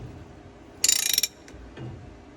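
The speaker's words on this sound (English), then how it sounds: "I just grabbed my 3/4 inch drive socket." A 3/4 inch drive socket ratchet runs a bolt down on a Gleaner R72 combine during a hydraulic sheave bearing repair, giving one quick close burst of about eight sharp clicks, followed by a faint knock.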